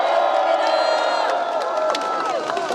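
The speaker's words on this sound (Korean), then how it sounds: "여러분, 민경욱 의원 위해서 박수 한번 쳐주십시오." A crowd at an outdoor political rally roars approval, a loud mass of cheering and whooping voices with scattered clapping underneath, sustained for a few seconds with individual shouts rising out of the din.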